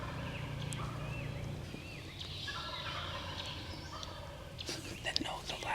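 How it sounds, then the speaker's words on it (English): Wild turkeys gobble at a distance in spring woods, including a young jake among several birds, with rough, rolling calls over a quiet outdoor background and soft whispering nearby. "The third gobble, the one that gobbles last, is a jake."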